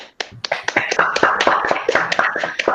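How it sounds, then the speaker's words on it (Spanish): Sparse clapping from a small audience at a literary talk, with irregular, crisp individual claps that thicken slightly, heard up close with no one speaking. "Vamos a darle un aplauso a la compañera escritora que estuvo."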